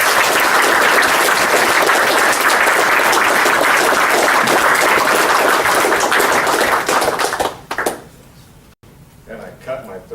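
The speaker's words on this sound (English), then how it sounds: "please join me in extending a warm round of applause and welcome to our 2016 Distinguished Alumnus Award of the Year" Loud audience applause at a 2016 university mechanical engineering convocation, a dense sustained clapping that fills the room for several seconds before fading out, with a few scattered claps and faint voices afterward.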